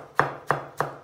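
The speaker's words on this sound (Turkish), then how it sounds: "Doğrayabildiğiniz kadar ince doğrayın." Three sharp knife chops on a cutting board as tomatoes are diced very finely for a tomato-sauce chicken dish, evenly spaced and close, each with a brief thud and no talk.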